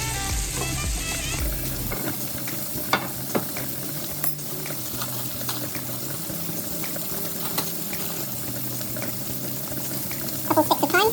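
Garlic and thyme fry in butter in a pan, giving a loud, steady sizzle that carries throughout, with occasional clicks and light stirring noises over the crackling hiss.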